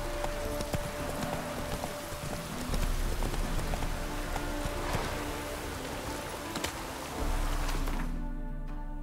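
Steady rain patters over a game landscape in The Witcher, a dense continuous wash of droplets with faint hoof-like clopping and scattered clicks throughout.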